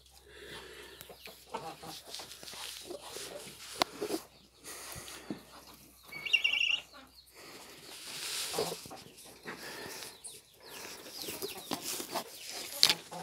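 A broody hen clucks in short, irregular bursts at a farmyard, with other fowl audible nearby and a brief higher squawk midway; the calls come and go at moderate loudness with quiet gaps between.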